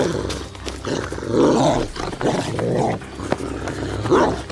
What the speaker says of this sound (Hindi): अरे ये कुत्ता तो फिर से मेरे पीछे पड़ गया।